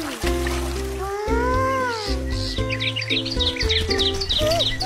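Birds chirp and whistle in a natural outdoor setting by the water, a busy mix of short rising tweets and longer sweeping calls repeating close by over a steady background.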